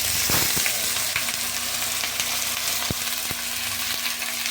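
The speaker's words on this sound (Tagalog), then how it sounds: "Gigisahin natin yung ating isdang salmon para gisa natin sa luya." Salmon sautéing with ginger in a hot pan gives a steady, loud sizzle and frying crackle throughout, with a few sharp clicks of stirring against the pan and no speech.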